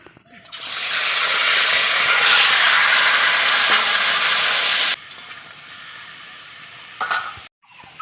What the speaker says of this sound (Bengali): তাতে চিকেনটা ভেজে নিব হালকা করে